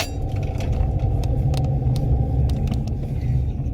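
Steady low road rumble of a car driving on a pizza delivery run, an even in-cabin drone with a few light rattles and clicks, no talk.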